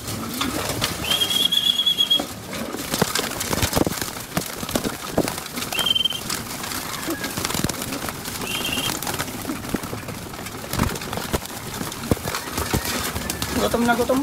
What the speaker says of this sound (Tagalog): May kalapati sa ilalim par.